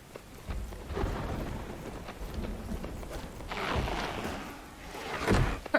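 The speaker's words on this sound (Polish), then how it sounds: "strasznie mi się ta burza nie podoba." Steady rain hissing in the video game Myth of Empires, with low rumbles of thunder rolling through, swelling twice, and a sharper crack near the end.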